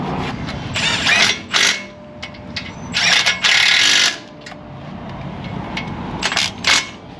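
Impact gun working a fastener on a vehicle in an auto repair shop, several short loud mechanical bursts of rattling hammering at uneven intervals between quieter shop noise.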